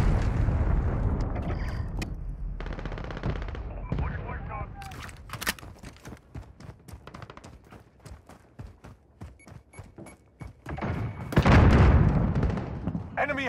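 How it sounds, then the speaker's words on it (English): A cruise missile strike in the Call of Duty: Modern Warfare multiplayer open beta: heavy booming blasts with a deep rumble at the start, followed by a string of sharp gunfire cracks and a second loud explosion near the end. "enemy cruise missile incoming"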